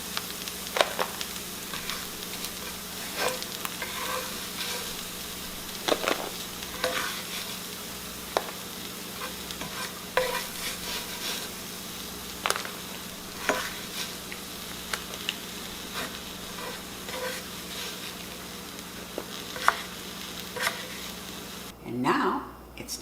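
Squirrel frying in a pan, a continuous close sizzle and crackle with occasional scrapes and stirring clatter, steady throughout the long stretch until a short quieter moment near the end.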